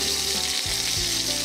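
A beef fillet steak sears in a hot pan, a loud, continuous close-up sizzle with a brief dip and swell as the meat is pressed, no talking.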